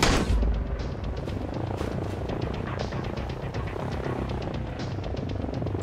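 A helicopter in the survival game Sunkenland gives off a loud, continuous rapid rotor throbbing with a low rumble, steady and close throughout and heard on its own.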